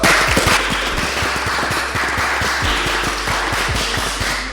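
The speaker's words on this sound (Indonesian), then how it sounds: "Tepuk tangan." Dense applause from a crowd, many hands clapping in a steady, loud wash that fades slightly toward the end.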